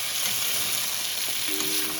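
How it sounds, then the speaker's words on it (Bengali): Chicken curry masala stirred in a pan over a low flame produces a soft, steady sizzle with gentle stirring, close and unbroken for a brief moment. "তো এরকমভাবে আস্তে আস্তে করে 2-3 মিনিট এরকমভাবে নাড়িয়ে নিতে হবে।"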